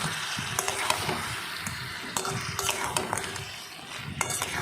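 A spoon scrapes and clinks against a pan of simmering crab curry, with irregular metallic taps and stirring strokes over a low, steady bubbling sizzle.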